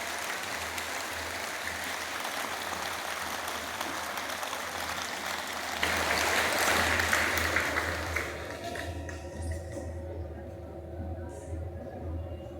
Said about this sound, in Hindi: तो ठोक दो ताली डॉक्टर साहब के लिए